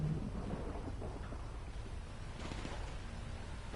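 Thunder from a lightning storm in GTA V Online, a low, rolling rumble that swells and fades in the distance over a steady background hiss of rain.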